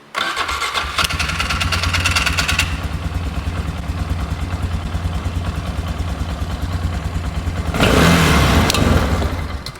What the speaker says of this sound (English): See if she'll run under her own power now.